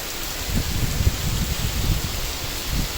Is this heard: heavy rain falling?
yes